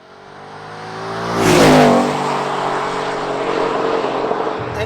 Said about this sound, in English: switch the exhaust into racetrack mode